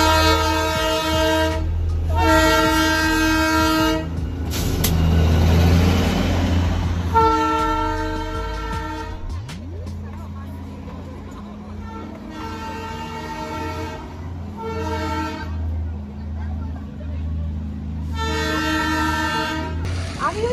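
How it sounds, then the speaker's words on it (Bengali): A train near Ghum Monastery in Darjeeling sounds its horn in several long, loud blasts as it approaches, with rumbling wheels and clickety-clack between the blasts and a voice speaking briefly. "আচ্ছা, ট্রেন আসছে।"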